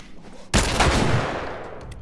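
Sudden loud burst of gunfire in The Last of Us erupts after a half-second lull, a dense volley of shots that rings on and slowly decays through the rest of the moment.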